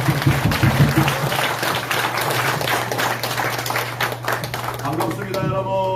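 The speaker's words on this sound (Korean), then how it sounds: "자, 이제 황교안 우리 총괄 대표님 나오실 때 크게 박수 한번 부탁드립니다." An indoor crowd claps loudly and steadily to welcome a speaker to the stage at a Korean gathering, dense applause with a few voices and cheers mixed in, holding strong throughout.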